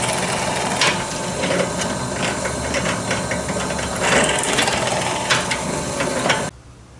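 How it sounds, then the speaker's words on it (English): Scrap 2x2 lumber being cut at a workbench while framing a wooden dinghy makes a loud, continuous hissing, grinding roar with a few surging bursts, then cuts off abruptly just before the end. "I'm just taking some scrap 2x2s, cutting into various lengths here"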